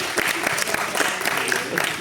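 Audience applause after a briefing-session presenter calls for a round, dense clapping with some scattered voices in the crowd, fairly close and steady over two seconds.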